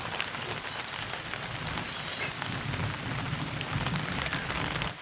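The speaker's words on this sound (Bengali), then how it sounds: "বলতে বলতে কিন্তু চারিদিকে পুরো বৃষ্টি নেমে গেছে ঝমঝম করে।" Heavy rain falls outside in a dense, steady patter on surfaces, loud and continuous throughout, with no one speaking.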